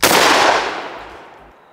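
A Maverick 88 Cruiser shotgun fires a single loud, close blast that rings out and decays over more than a second, with no talking.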